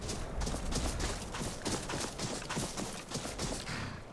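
Horse hooves clip-clop steadily in a video game, a dense, continuous rhythmic patter of hoofbeats at a trot or gallop, fairly close and unbroken throughout, with no talking.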